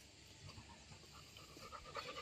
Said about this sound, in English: What's the name of this puppy?